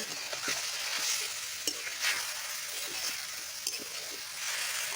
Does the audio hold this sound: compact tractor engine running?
no